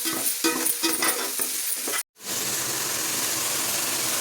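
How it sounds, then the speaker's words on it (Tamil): Chopped okra sautés with rock salt in a hot pan, loud sizzling with scraping stir strokes, a brief silent break, then a steady frying hiss. "வதக்கி விட்டுக்கலாம்."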